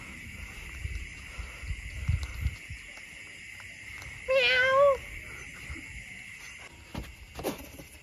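A cat lets out a single drawn-out meow, clear and fairly close, rising and falling in pitch against a steady outdoor background hum with occasional faint rustles.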